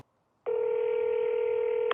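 A telephone call to a Dodge dealership parts department rings out, one steady electronic ring tone starting after a short silence and holding clear and close.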